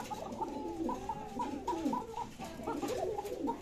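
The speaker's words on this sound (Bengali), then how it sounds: "একবার একটানা ডাকে কবুতরগুলা" Pigeons kept among dozens of pairs of fancy breeds offered for sale coo continuously and close by, with overlapping rhythmic calls repeating without pause and no talking.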